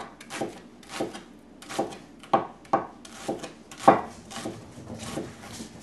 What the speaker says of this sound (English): First, start chopping my onions.